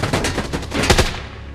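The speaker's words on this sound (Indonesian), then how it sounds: "salah satu dari mereka melepaskan tembakan ke arah posisi Jim" Rapid automatic gunfire rattles in close, loud bursts throughout a tense film shootout, a dense string of sharp cracks with no voices over them.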